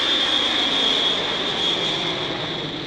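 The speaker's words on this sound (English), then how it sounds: "just in time for them to see Brunhilde's plane take off" An airplane taking off: a loud, steady jet engine roar with a high whine, continuous throughout and fading slightly at the end.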